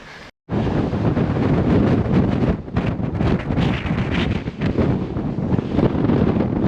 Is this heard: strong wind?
yes